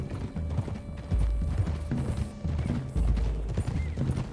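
A horse in Red Dead Redemption 2 trots with a steady, rhythmic clip-clop of hooves on a track through rocky country, punctuated by a brief whinny, fairly close and loud.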